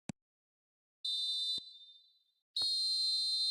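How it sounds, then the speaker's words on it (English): A referee's whistle signals half-time in the eFootball video game, sounding as two shrill, high-pitched blasts, a short one followed by a longer one, separated by a brief silence, with a faint click at the start. "There's the whistle for half-time."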